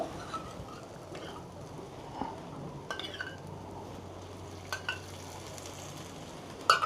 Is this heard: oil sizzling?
yes